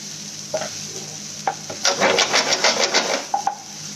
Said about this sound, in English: We will just keep it on sauteing